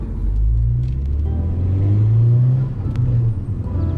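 A Mk6 Volkswagen Golf R's exhaust with an aftermarket eBay downpipe rumbles deeply as the engine revs and pulls, a loud, throaty drone rising and settling, heard from inside the car with the window cracked.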